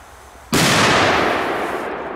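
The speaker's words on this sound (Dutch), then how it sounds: "Is dat een gipsbom of niet? Ja, die zijn goeie, man. Die knalt hard, man." A Polish gipsbom firecracker explodes with one sudden, very loud close bang, followed by a long, fading rumble of echo and debris.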